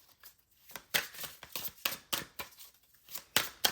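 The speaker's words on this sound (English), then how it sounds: "and I'll shuffle over here." Tarot cards are shuffled by hand in a run of crisp, papery riffles and slaps, about a dozen short bursts at an uneven pace, close and fairly loud with no talking.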